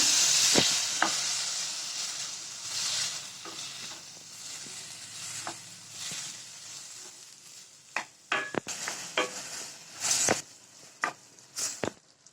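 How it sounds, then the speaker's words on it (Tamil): Tomatoes, tamarind and garlic sautéing in hot oil, with a steady hiss of frying and a series of spatula scrapes and taps against the pan that grow busier toward the end. "இது எல்லாத்தையும் நல்லா வதக்கிக்கோங்க."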